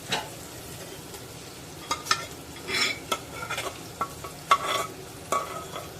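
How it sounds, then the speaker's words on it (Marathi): Cooked toor dal is tipped into a sizzling tempering with tomato and stirred, giving a steady low sizzle broken by scattered scrapes and clinks of a spoon against the pan. "आता आपण गोठून ठेवलेली डाळ त्यामध्ये घालूया"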